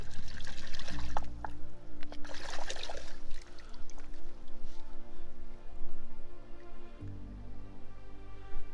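Rock geode dipped into water outdoors while geode collecting in Indiana in January, giving steady close pouring and trickling water sounds with splashy bursts throughout.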